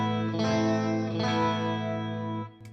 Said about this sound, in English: This is a very subtle chorus effect.